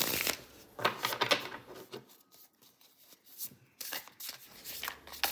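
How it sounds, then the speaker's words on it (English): Slippery mass-market Wandering Star tarot cards are shuffled by hand in repeated riffling bursts, close and crisp, separated by brief pauses, with no talking. "So if you also shuffle like this, it's also very good because it's a bit slippery."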